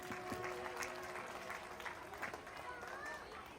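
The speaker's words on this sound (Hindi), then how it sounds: "Put your hands together. जोरदार तालियां।" Audience at a school annual function claps together, a faint, steady patter of applause heard from a distance with talk and some music over it.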